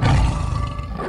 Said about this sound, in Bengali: আমি তো ভাবলাম বাঘে ডাকলো বুঝি।